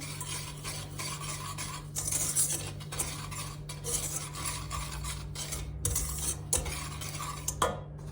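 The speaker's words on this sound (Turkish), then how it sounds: "Bunları önce güzelce bir karıştıralım." A spoon scraping and stirring sugar and vanilla sugar in a metal pan, with repeated rasping strokes and light clinks over a low steady hum; quiet and close, no voices.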